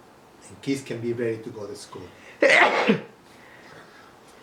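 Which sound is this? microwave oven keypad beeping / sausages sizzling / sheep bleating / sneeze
sneeze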